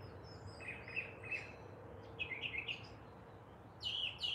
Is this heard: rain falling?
no